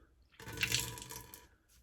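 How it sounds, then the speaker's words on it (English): Water squeezed from a soaked badger shaving brush splashes and trickles in a short burst, quiet and close, with no talk. "I squeeze out the excess water."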